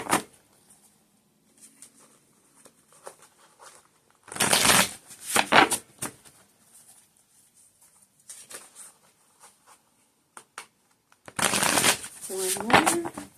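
A deck of cards gets shuffled in quick bursts, two loud riffling flurries standing out, with quieter handling and faint talk in between.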